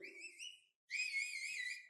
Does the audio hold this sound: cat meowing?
no